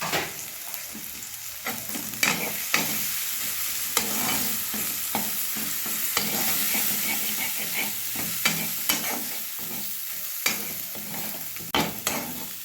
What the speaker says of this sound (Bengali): এবারে আমি মশলা কষা হয়ে গেছে